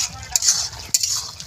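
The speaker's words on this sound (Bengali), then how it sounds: "এবার একটু নাড়াচাড়া দিয়ে নামিয়ে নেব" Okra curry being stirred in a pan, two quick scraping strokes over a bright sizzle, close and fairly loud for a brief moment.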